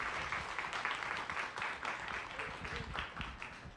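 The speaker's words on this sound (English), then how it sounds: "Give her a warm round of applause." Audience applause at an indoor Science Cafe talk on people of color and the outdoors, as a speaker is welcomed to the stage. Steady, dense clapping from a crowd fills the whole stretch without a break.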